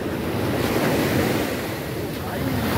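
Ocean waves surge and crash steadily onto Marina Beach in India, a dense, continuous roar of surf with wind rushing across the microphone throughout.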